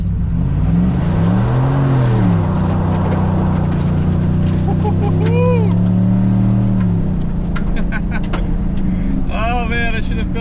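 A 2022 GMC Sierra pickup on 26-inch wheels and 35-inch tires revs hard on a muddy corner, the engine rising and falling in pitch as the tires spin and sling mud, with squeaks and rattles near the end.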